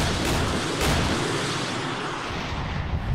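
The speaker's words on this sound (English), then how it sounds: "A second bombardment coming in, and I think that wiped out the anti-tank guided missile." Artillery bombardment explosions in a video game simulating a 1968 Israeli raid in Jordan, heard as a heavy rolling boom with a deep rumble that fades over a few seconds, loud and close.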